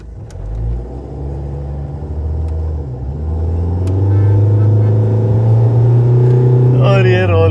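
Two cars, a Mahindra XUV500 and a Hyundai Verna, accelerate hard side by side in a drag race, a loud low engine rumble that swells and builds steadily, with a brief higher whine near the end.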